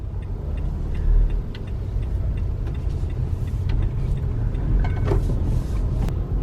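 A car driving on highways from New York City toward New Jersey, heard from inside the cabin as a steady low engine and road rumble with faint ticks and clicks.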